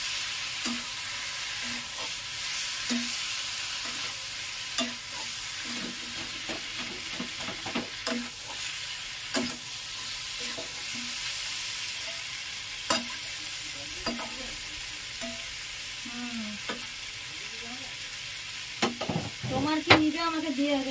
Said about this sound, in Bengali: এঁচোড়টা আলুটা দিয়ে দিলাম। দিয়ে ভালোটি করে কষিয়ে নেব।